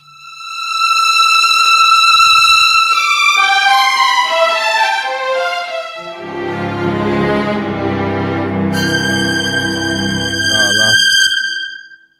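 A keyboard plays a lush string-section patch imitating many violins, drenched in deep hall reverb; sustained high chords descend in steps, then a fuller low-register passage swells before bright high strings return, loud and continuous.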